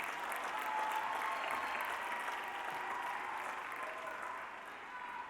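Sustained applause from a graduation ceremony audience at a charter high school, a steady dense wash of clapping that continues throughout and eases slightly near the end.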